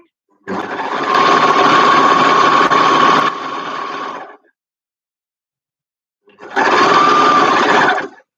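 A sewing machine stitches a seam in two close, steady runs, a long burst of several seconds, a pause of silence, then a shorter second burst with the same even mechanical whir.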